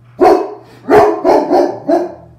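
A dog barks close by in four or five loud, full barks with short gaps between them, with faint hum in the background.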